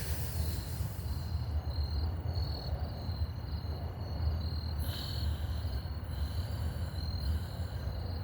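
Crickets chirp in steady pulsing trills against a low outdoor hum, constant and moderately distant, with no voices.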